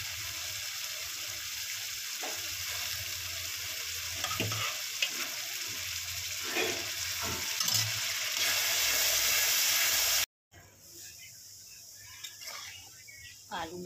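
Potatoes and peas go into a sizzling pan of ghugni curry, a steady frying hiss that swells as they are stirred, then cuts off briefly and resumes quieter, with some faint voice underneath.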